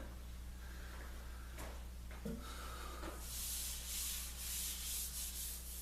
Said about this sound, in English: Just going to leave that on because I don't have to sand all the way to the end.